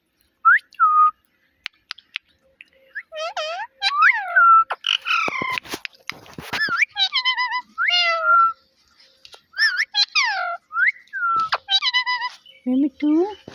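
A talking parrot mimics a cat's meow, giving a string of whistled, rising-and-falling meow-like calls with short gaps between them, close by, mixed with other chirps and clicks.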